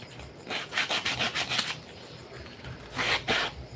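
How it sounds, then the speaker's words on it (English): Hand sanding of a thin wooden piece, quick rhythmic back-and-forth rasping strokes close by, in two bursts separated by a short pause. "We're going through the sanding right now to get the project started."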